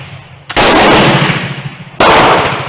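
Remington rolling block 7x57 Uruguayan carbine firing after a delayed light strike: a small click, then a loud sharp gunshot, followed by a second report with echoing decay.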